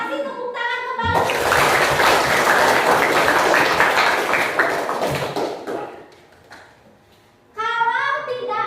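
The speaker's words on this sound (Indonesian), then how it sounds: "Terima kasih, tepuk tangan kembali." A classroom of students claps together in a sustained burst of applause lasting several seconds, with voices talking just before and after.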